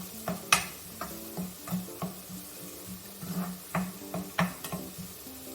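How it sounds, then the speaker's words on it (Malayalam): Chopped shallots and garlic sautéing in a pan for spinach thoran, with soft sizzling and a steady run of light stirring taps and scrapes, close and fairly quiet, no talking. "5-10 ചെറുള്ളിയും 3-4 വെളുത്തുള്ളിയും കൂടി അരിഞ്ഞ് ചേർത്ത് നന്നായി വഴക്കട്ടോ."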